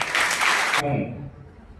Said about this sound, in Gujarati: ફરીથી તાળીઓ થઈ જાય